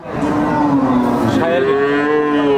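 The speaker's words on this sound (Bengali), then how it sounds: "আপনারা সাইওয়াল জাতের একটা বকনা দেখতে পাচ্ছেন" A Sahiwal heifer calf at a cattle market gives one loud, close, drawn-out moo. Its pitch rises partway through and holds to the end.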